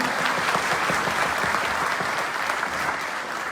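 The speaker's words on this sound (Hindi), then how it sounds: "तालियां।" Dense, continuous applause from a large audience fills a Lucknow convention hall at a Uttar Pradesh lekhpal union gathering, loud and unbroken throughout.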